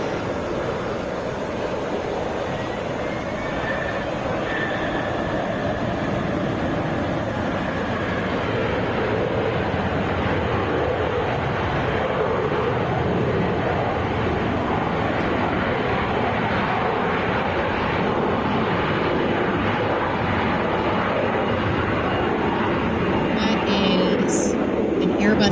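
A Delta Airbus A321 jet at Atlanta International Airport gives off a broad, sustained roar that holds steady throughout, heard from a distance under a person talking.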